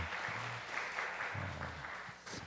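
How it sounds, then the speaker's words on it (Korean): A church congregation at a Sunday youth service claps in encouragement after a closing prayer, a steady wash of applause filling the room with a few louder stretches. "우리 사랑을 담아서 격려 박수하겠습니다."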